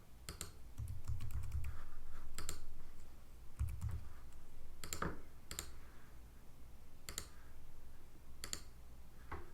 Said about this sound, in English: I will patiently wait for you to type all information.